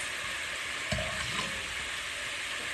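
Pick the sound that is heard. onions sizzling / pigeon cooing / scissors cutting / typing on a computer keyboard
onions sizzling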